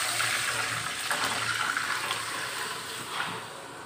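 Browned chopped garlic hits hot oil for drumstick dal, giving a steady bright sizzle that holds evenly across the moment and eases slightly at the end, with no talking.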